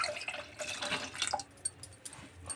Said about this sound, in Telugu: వేసుకొని చింతపండు గుజ్జును పోసుకోవాలి.